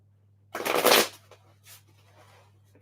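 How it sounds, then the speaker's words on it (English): Tarot cards being shuffled, one short, crisp riffle burst close up, followed by a couple of faint card flicks in a quiet room. "One more shuffle."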